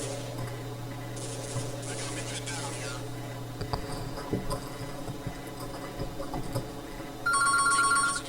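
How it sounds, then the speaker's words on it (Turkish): A telephone rings in short electronic trilling bursts, two clear rings early on and a louder ring at the end, over a steady hum with a few faint clatters in the room. "Bir dakika beyler telefon çalıyor."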